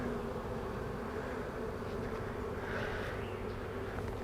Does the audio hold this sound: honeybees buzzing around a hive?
yes